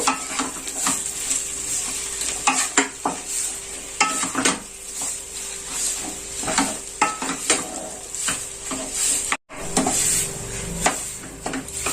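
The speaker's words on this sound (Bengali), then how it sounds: "এবার আমি এটাকে ভালো করে নেড়ে নেব, মশলার সাথে এটাকে আমি ভালো করে নেড়ে নেব।" Grated potato stirred with spices in a pan, the spoon scraping and knocking against the metal in irregular strokes over a soft, steady sizzle, close and alone.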